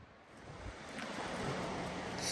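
Ocean waves wash against the seaside in a continuous broadband rush that swells slightly louder, with wind buffeting the microphone and no voices.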